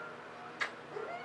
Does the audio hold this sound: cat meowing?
yes